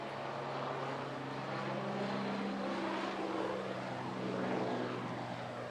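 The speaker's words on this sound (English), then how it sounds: "The Wasp HAS Mark 1, painted as 606 from the 829 Naval Air Squadron HQ flight." Westland Wasp HAS Mark 1 naval helicopter, built in 1964 and painted as 606 of 829 Naval Air Squadron HQ flight, droning steadily at an air festival, its engine and rotor noise holding a continuous moderately loud hum with no talk.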